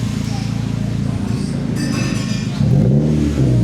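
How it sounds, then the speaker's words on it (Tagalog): An FD car idles and revs through a newly fitted Ultra Race full exhaust, a loud rumbling engine note that deepens and swells near the end while someone talks over it. "So, nakabit na yung ating exhaust. Ayan, oh. Exhaust. So, sound check na tayo."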